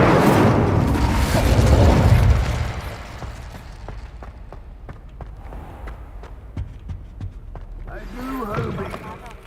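An Incendio fire spell cast in Hogwarts Legacy, a loud roaring, booming whoosh of flame for about two seconds, followed by quieter crackling ticks and footsteps, with a voice near the end.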